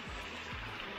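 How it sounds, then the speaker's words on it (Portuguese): A waterfall in the mountain landscape of Serra Cabeça da Anta: a faint, steady broadband rush of falling water heard from a distance, with a few low passing rumbles beneath it and no talk. "Olha a cachoeira que tem aqui no fundo."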